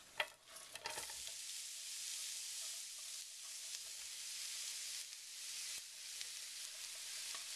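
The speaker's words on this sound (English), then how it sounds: "I'm going to cook the onions next." Onions fry in a pan for Korean jap chae, a steady broad sizzle with occasional stirring scrapes early on, continuous and fairly close with no voices.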